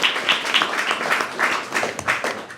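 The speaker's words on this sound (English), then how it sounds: "Clap it up for Winter watch." Audience at a creatives panel applauds a speaker with scattered, moderately close clapping that keeps a lively uneven rhythm for a couple of seconds.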